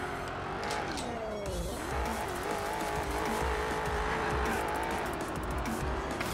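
A car's engine and tires racing in the video game Carmageddon Max Damage: a steady, revving engine whine with shifting pitch and tire squeal, continuous and close.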